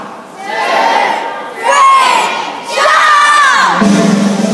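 An audience at a seal show shouts together in loud, swelling bursts, with excited children's voices rising over the crowd in three waves across the moment.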